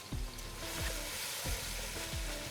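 Rice and moti kofta sizzle steadily in a pan while being sautéed for pulao, with a continuous crackling hiss and a few soft stirring scrapes, close and alone without talk.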